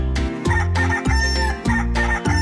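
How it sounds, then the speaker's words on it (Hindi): A rooster crows again and again in quick succession, loud and close, layered over a rhythmic musical backing. "मुर्गा गाना नहीं रुकता जब तक कि सब ना उठ जाएं"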